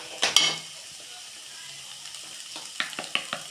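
Turmeric and crushed spice mix fry and get stirred in a pan for a chicken curry, a soft steady sizzle punctuated by spoon scrapes and clinks against the pan, close by without speech.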